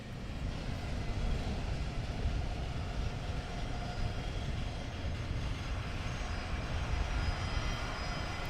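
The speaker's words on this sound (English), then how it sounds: "we have another inbound aircraft" An EasyJet airliner inbound at London Luton Airport produces a constant low rumbling jet roar, fairly loud and unbroken throughout, with no voices.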